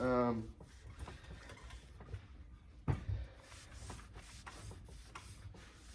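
A kitchen cabinet door is wiped clean of finger grease and dirt, soft rubbing strokes close up with a sharp knock partway through, under a voice talking.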